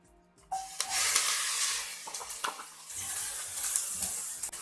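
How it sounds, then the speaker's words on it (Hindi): Onion hits hot oil with cumin and fries, bursting into a loud, steady sizzle with a few clinks and stirring scrapes throughout. "अब हम प्याज को तकरीबन 5 मिनट के लिए फ्राई करेंगे"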